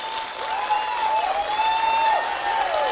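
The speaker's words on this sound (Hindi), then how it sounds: "मैं चाहूंगा एक जोरदार तालियां मलिक सर के लिए जरूर बजे यार।" Audience clapping for a respected teacher at a motivational seminar, a steady spread of applause with whistling or squealing tones gliding over it, moderately loud throughout.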